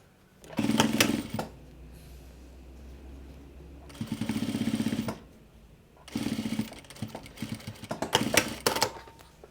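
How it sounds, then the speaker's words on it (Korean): Sewing machine stitching a handmade fabric face mask in a home sewing setup, running in three separate bursts of rapid mechanical chatter with quiet pauses between, fairly close. "1cm 간격으로 박음질 해주시면 되고요"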